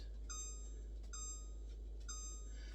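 A kitchen timer beeps in a home kitchen while chicken cooks, sounding three short, faint, evenly spaced electronic beeps over a low steady hum.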